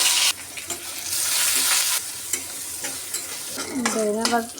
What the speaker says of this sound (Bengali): এখন ধনে পাতাগুলো ভেজে নেব